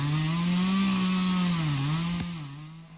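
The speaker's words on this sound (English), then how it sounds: "Crews used chainsaws to cut up trees brought down by Typhoon Saola." Chainsaw loudly cutting through fallen trees during storm cleanup after Typhoon Saola in southern China, a steady high-revving whine that dips in pitch as the blade bites, then eases off toward the end.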